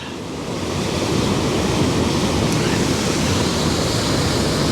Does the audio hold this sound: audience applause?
no